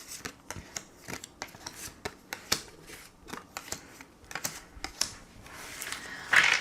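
Tarot cards shuffled by hand for a reading, close and quiet, a series of crisp irregular flicks and taps of card edges, with a brighter riffle burst at the very end, no voices.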